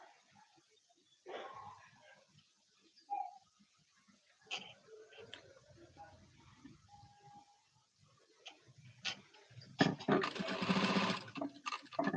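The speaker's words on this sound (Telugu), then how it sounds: "సేమ్ ఇటువైపు కూడా అలాగే స్టిచ్ వేసుకుంటూ వచ్చేసేయాలి" A sewing machine edge-stitches a dress neckline in short, intermittent bursts, with a longer run near the end. The bursts are close and fairly quiet, with pauses and faint background noise between them.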